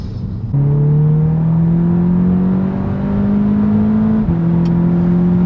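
An Audi S3 engine revs steadily higher under acceleration, a loud rising drone that briefly dips at a gear change before climbing again.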